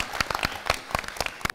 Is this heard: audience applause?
yes